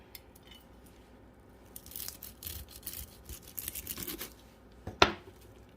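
A knife slices open a fried shrimp ball with a short scratchy, crunchy cutting noise, quiet overall, ending in one sharper crisp crack near the finish.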